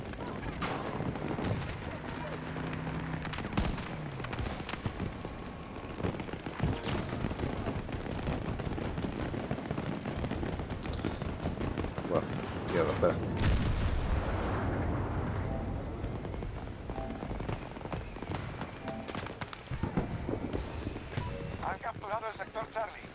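Gunfire from a shooting video game crackles in dense, irregular bursts and repeated sharp shots, loud and continuous for over twenty seconds, with heavy blasts mixed into the din.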